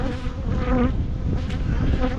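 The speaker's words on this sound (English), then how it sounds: "I'm gonna shake all the bees down." Honey bees buzzing in a dense, steady drone as they are shaken off a hive frame during hive work on a cotton honey flow, loud and close throughout with no talk.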